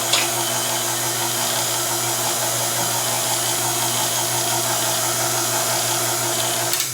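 An electric mixer runs steadily while mixing sweet potatoes with butter for pie filling, a loud, constant motor whir with a faint rattle that holds for the whole stretch without a pause.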